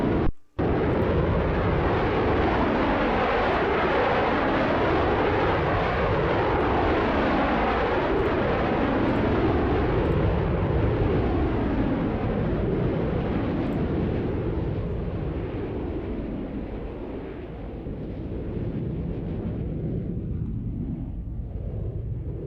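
A Lockheed U-2 Dragon Lady jet roars past at a Roblox airshow, a loud, continuous engine rumble with a slowly shifting, phasing tone that fades slightly toward the end, preceded by a sharp click at the start.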